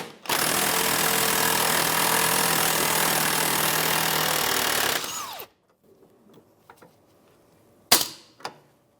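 Pneumatic impact wrench with a 16mm socket loosening a rear sway bar link bolt on a 2009-2014 Nissan Maxima, one loud continuous rattling burst of about five seconds, then a pause with a few sharp clanks of tools.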